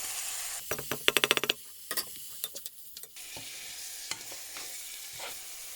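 Chopped mushrooms go into a frying pan, with a soft background sizzle under a burst of quick clattering taps and a few scattered knocks as they are moved around.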